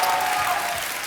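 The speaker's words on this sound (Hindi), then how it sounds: "आप सबकी जोरदार तालियों के बीच बुलाना चाहूंगा" A studio audience at a television comedy show applauds as guests are welcomed, a brief burst of steady clapping.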